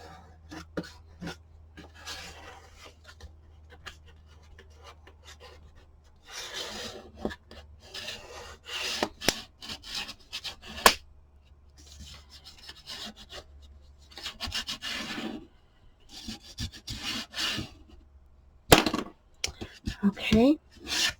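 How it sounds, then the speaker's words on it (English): Chipboard edge rubbed down firmly with a burnishing tool while assembling a 7 x 8 vertical Christmas album, a close scratchy rubbing in uneven bursts separated by quiet stretches and occasional handling knocks. "now you're going to burnish that in. Really, really good."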